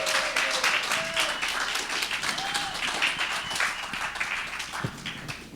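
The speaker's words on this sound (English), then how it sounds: "I think Faye really deserved a big applause." An audience at a music students' demo day applauds a student presenter, with sustained group clapping at moderate volume and brief voices and whoops mixed in underneath.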